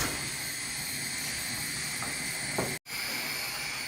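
Chopped onions frying and being stirred in a pan, a close, steady sizzling hiss with a couple of faint scrapes and one brief dropout.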